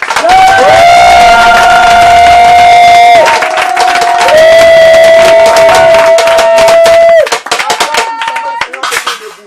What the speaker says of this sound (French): Acclamons puissamment le Seigneur.